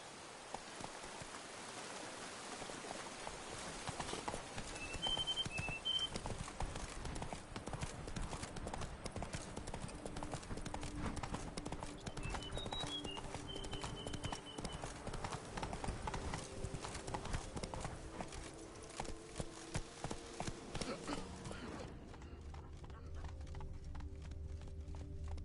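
Horse hooves clip-clop steadily through a rainy outdoor scene in The Witcher 3 video game, brisk rhythmic steps with light rain behind them and a voice speaking briefly.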